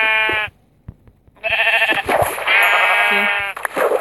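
Sheep bleats from the video game Minecraft, a loud quavering bleat, a pause, then two longer wavering bleats close up with little else around them.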